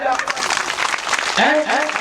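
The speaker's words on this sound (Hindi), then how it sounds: "ताली बजाओ" Audience clapping at a Gondi storytelling talk, a dense, steady patter of many hands filling the whole stretch, with a voice speaking over it toward the end.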